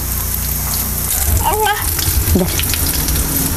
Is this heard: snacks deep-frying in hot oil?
yes